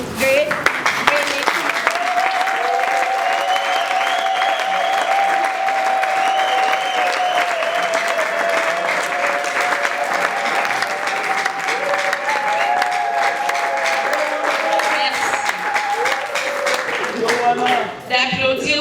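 A large crowd at a surprise birthday party claps steadily and loudly for the whole stretch, a dense wash of applause with a few voices and cheers mixed in.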